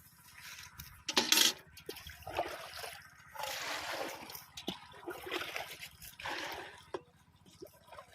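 Water trickles and splashes onto vegetable plants such as brinjal being watered by hand, in uneven close bursts of pouring and dribbling with quiet gaps between.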